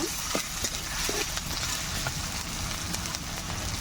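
Ginger, onion and garlic paste is stirred in a pan over spices, giving a steady close sizzle with repeated scraping and tapping of the spoon, no talk.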